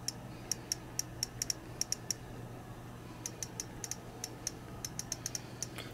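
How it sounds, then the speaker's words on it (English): Soft, crisp keyboard clicks from a first-generation iPod Touch, which has no built-in speaker, tap out in quick irregular bursts while typing a note, faint and close against a low steady hum. "So that is a clicking sound, because it does not have a built-in speaker."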